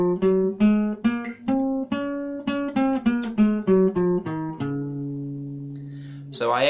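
A guitar plays the D Ionian mode as a scale, with single notes plucked one after another in an even rhythm. The last notes ring out longer, and it is close and clear with no talk.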